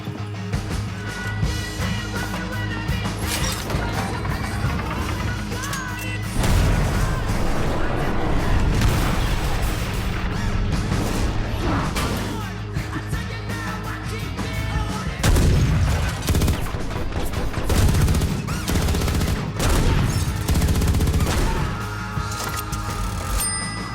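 An action-movie shootout in which attackers are held off, with dense, loud bursts of gunfire and booming explosions rolling continuously under a busy, layered soundtrack.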